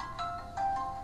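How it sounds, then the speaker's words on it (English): A mobile phone ringtone plays a short, repeating electronic melody of bright beeping tones at moderate level over a faint background hiss, with no talk. "That's my phone ringing."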